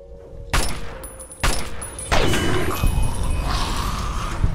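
Three sharp gunshots from the video game Fallout: A Tale of Two Wastelands ring out about a second apart, each followed by a short echoing tail over a steady background in a metro tunnel.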